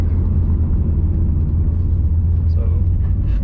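A tuned Mitsubishi Evo with a stock 6466 block drives along a back road, its engine a steady loud low rumble filling the whole stretch, with road noise and no clear speech.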